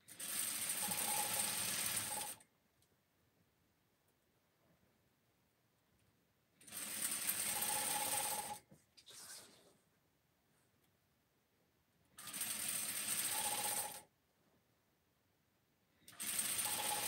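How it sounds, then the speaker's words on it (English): A sewing machine stitches ruffle anklets with the fabric guided by the presser foot, running in steady whirring bursts of about two seconds separated by quiet pauses, with a brief clatter between runs. "I'm just using the sewing foot and guiding it"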